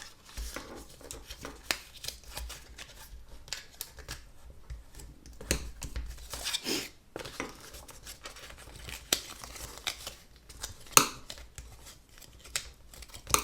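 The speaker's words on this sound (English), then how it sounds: "just burnish on all your fold lines" Paper gift box fold lines being burnished by hand, a steady stream of dry rubbing, scraping and tapping strokes close by, with no voices.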